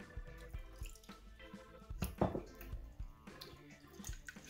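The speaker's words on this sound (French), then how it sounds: "Je dois venir ajouter de l'eau." Water being added to a glue-free slime paste, a few soft close drips and wet squishy splashes in an irregular rhythm, quiet overall with one brighter splash near the middle.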